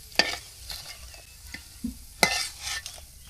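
Vermicelli frying in oil in a pan over a village wood fire, stirred with a few sharp scraping strokes over a steady close sizzle.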